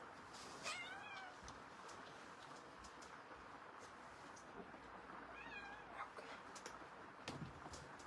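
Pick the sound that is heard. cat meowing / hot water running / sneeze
cat meowing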